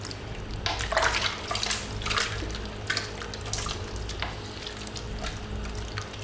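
Bolognese sauce is stirred in a pan, a close, bubbling hiss with wet, sloshing bursts from the spoon moving through it, fairly loud and steady, with no voices.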